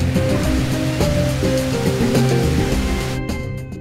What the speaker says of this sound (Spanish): Esta es la Cascada del Limón